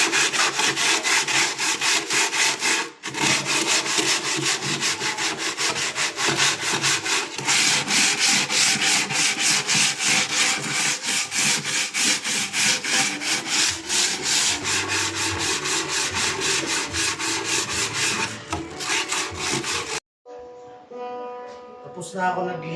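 Wood is sanded by hand with sandpaper in long, steady, close rasping strokes that run almost continuously with a few short pauses, and the work stops near the end.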